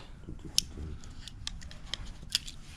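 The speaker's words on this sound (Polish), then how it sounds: "nożyczki. Nawet pazury sobie można obciąć." Small scissors from a compact multi-tool kit with a screwdriver and tape measure, snipping in a few sharp, quiet clicks spread over a couple of seconds, close and alone against a low background hum.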